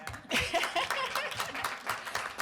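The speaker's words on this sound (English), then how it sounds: "You can clap for that." Brief round of clapping from a city council meeting audience, a modest cluster of hands applauding with some voices and light laughter mixed in.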